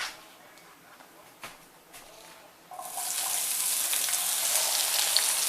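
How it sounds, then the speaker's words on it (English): Vegetables hit hot oil in a small skillet. A few faint taps give way to a steady, close sizzling hiss that continues to the end. "I'm going to saute these vegetables right here"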